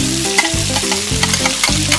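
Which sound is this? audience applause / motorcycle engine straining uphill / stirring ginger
stirring ginger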